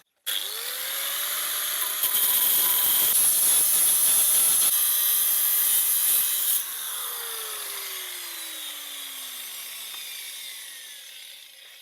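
An angle grinder with a cutting disc slices off an unneeded welded metal part while a sliding gate motor is installed, a loud steady grinding whine that rises as the disc bites in, then drops off and winds down as the tool spins to a stop.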